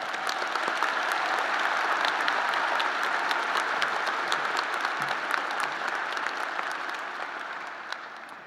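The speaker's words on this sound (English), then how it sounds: "please join me in congratulating all of these students with a round of applause" Sustained applause from a commencement audience for psychology graduates, dense and even, swelling early and then slowly fading toward the end.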